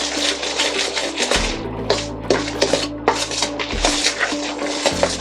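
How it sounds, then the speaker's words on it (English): Naan dough with salt and ginger is mixed in a bowl, producing continuous close scraping and rubbing with irregular knocks, over a steady low mechanical hum. "Now we mix that really well."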